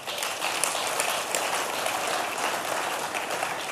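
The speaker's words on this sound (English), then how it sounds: "I think that's a good place to clap." Steady congregational clapping at an Easter church service fills the whole stretch, dense and even without pauses, heard from within the crowd at moderate loudness.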